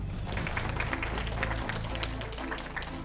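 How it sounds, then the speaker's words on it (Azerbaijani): Continuous clapping from a quiz-show audience cheering a school team, a close, even wash of many hands that barely rises or falls for its three seconds. "Alqışlarınızla"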